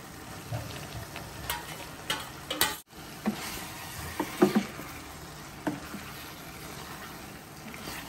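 Fried onion tipped into a hot pan of garlic and potatoes and stirred, giving a soft steady sizzle with scattered scraping and stirring clicks, fairly quiet and close, no voices.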